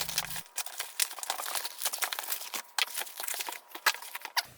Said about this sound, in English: Let's go ahead and unbox this light.